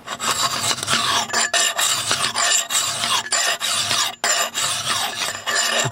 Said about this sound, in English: the file will cut better if it's biting into a kind of a flat surface